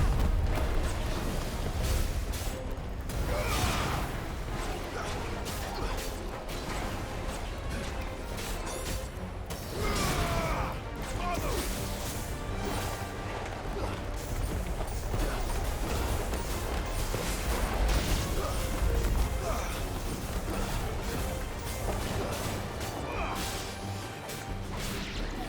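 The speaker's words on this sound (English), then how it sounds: "let's summon the tornado" A tornado summoned in Final Fantasy XVI roars through a game scene as loud, turbulent whooshing mixed with repeated crashes, smashes and mechanical clatter, continuous and dense throughout with no voices.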